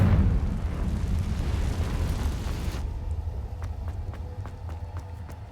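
A Confringo fire spell exploding in Hogwarts Legacy, a loud rumbling blast that roars and fades over a few seconds, then gives way to quieter regular ticking game sounds.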